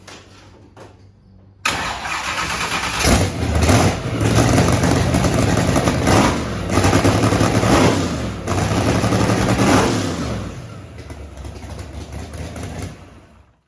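A no-prep drag race car engine without turbos cranks and fires after a short quiet moment, then settles into a loud, rough, lumpy idle close by with a few throttle swells before tapering slightly.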